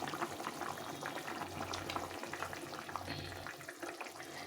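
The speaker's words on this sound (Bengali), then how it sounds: "ঝোলটা ফুটে গেছে" Fish curry broth with potatoes boils in a pot, a dense continuous bubbling and rolling simmer, close and soft, without any talking.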